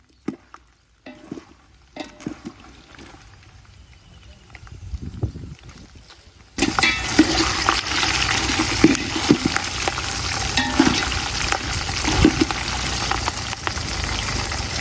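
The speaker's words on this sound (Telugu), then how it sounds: "ఈ పల్లీలు అయితే వేగదాకా అయితే మనం చూసుకుందాం" Peanuts fry in oil over a village cooking fire, starting with quiet rustles and a few knocks before a loud, steady sizzle takes over, with scattered stirring clatter.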